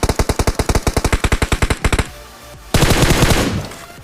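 Rapid automatic gunfire from a battle royale video game as an enemy is knocked down: a fast burst of about twenty sharp shots, a short pause, then a second noisy blast that fades.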